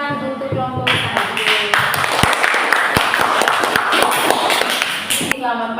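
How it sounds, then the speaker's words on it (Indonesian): A classroom claps for a presenting group, a burst of moderately dense hand clapping from a small crowd, framed by a speaking voice just before and after. "Kita tepuk tangan untuk kelompok"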